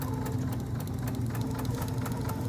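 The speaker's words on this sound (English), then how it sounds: "your needle will just stitch right in that seam, and you'll have an invisible stitch" Sewing machine stitching binding onto a quilt, a close steady mechanical whir with rapid fine needle ticking running throughout at an even pace.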